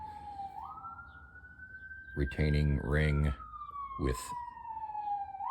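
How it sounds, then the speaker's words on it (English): An emergency vehicle siren wails outside in a neighborhood, its pitch rising and falling in long sweeps, moderately distant and continuous, while someone talks close by in short bursts over it. "You're getting sirens right outside."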